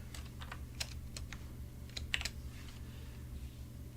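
Light, quick keystrokes tapping on a computer keyboard, irregular clicks spread over a few seconds against a faint steady hum.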